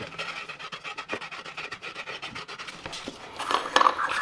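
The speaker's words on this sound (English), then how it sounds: "I'm going to take my sandpaper wrapped around a wine cork, and I'm going to polish that interior surface just a bit." Sandpaper wrapped around a wine cork rasps inside a model rocket nozzle in quick repeated strokes, close and fairly quiet, growing slightly louder and busier toward the end, with no voices.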